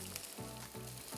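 Asparagus with bacon frying in a hot pan, a continuous close sizzle with soft crackles over a brief moment, and no voices.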